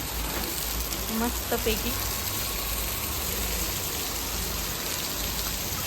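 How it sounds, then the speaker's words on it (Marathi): Steady rain hisses throughout, a dense even wash of falling water, with a person speaking briefly over it. "तर आमच्या इकडे बघा पाऊस चालू आहे"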